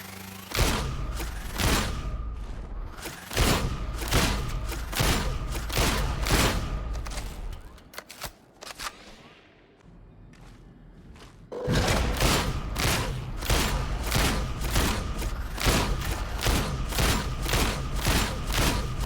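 Rapid, heavy Hellbore lasgun fire in the video game Darktide: loud rhythmic bursts of booming shots, a brief lull with softer mechanical handling sounds in the middle, then another long steady volley of close, punchy blasts.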